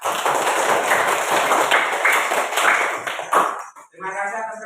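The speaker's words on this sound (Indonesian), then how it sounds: "Aplaus untuk kalian semua." Students applaud in a classroom with quick, close clapping that runs for several seconds under a voice, then breaks off into a brief quieter tail.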